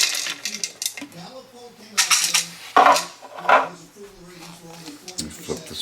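Dry kibble rattles and clatters out of a Petmate Aspen Le Bistro automatic portion-control pet feeder set to dispense two cups, in irregular bursts of tumbling pieces, while a person talks nearby.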